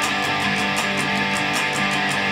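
Distorted electric guitar power chords strummed continuously with alternating down and up strokes in a quick rhythm, loud and dense, with a slightly smoother, less punchy pulse.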